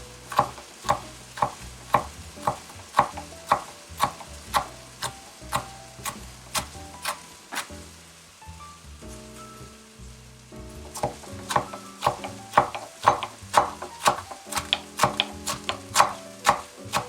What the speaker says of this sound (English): The next step is to chop our cilantro.